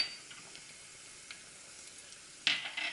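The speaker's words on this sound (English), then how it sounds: "Oil is ready, so I will add the cumin seed," Cumin and fenugreek seeds hit hot oil for a Sindhi kadhi: a faint, steady sizzle swells into a sudden louder crackling burst near the end, close up and with no voices.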